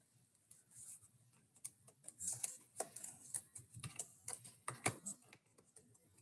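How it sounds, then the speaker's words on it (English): Someone types an email on a computer keyboard, with quiet irregular bursts of key clicks close by that pause briefly between words. "I'm going to type in my email."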